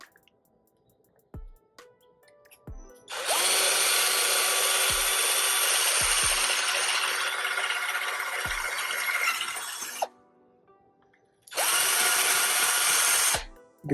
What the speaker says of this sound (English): and you just drill in.